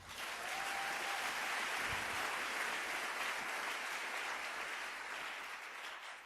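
Church congregation applauding during a French-language sermon, a broad steady wash of clapping that holds loud and continuous throughout, with no talk over it.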